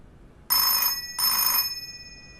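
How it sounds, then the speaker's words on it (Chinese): A telephone bell rings twice in two even, shrill bursts about half a second long, with a short gap between them. It is fairly loud in a quiet room, with no talk. "接电话"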